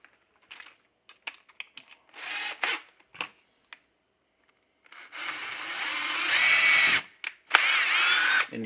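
A power drill drilling into resin whirs in short bursts at first, then runs in longer, louder stretches with brief pauses between them.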